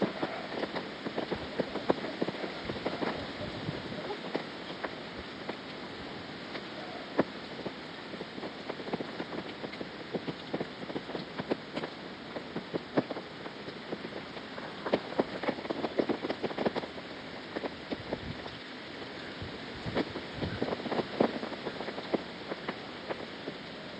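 Heavy rain and gusting wind at a quarry during a fishing trip: a steady, dense hiss of rain falling on surfaces with scattered louder drops and patter, continuous throughout, with no talking.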